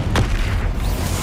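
A Confringo fire spell blasts off in the Hogwarts Legacy video game: a single sharp burst with a low booming thump, followed by a rumbling tail of fiery noise. The burst is loud and close.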